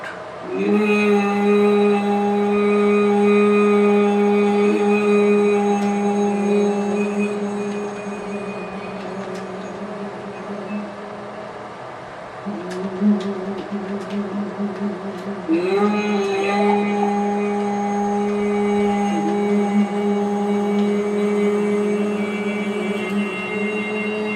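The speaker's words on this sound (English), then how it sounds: "make a deep, louder humming sound." Several voices hold a deep, loud hum during meditation breathing, a steady droning tone that breaks briefly between long exhalations and then swells back in.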